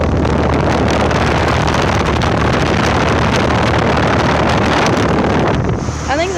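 A new 2025 Carrier Sentry 5-ton central air conditioner (GA5SAN) with a Copeland compressor running outdoors, a loud steady fan roar and hum with wind rumble on the microphone, close and continuous.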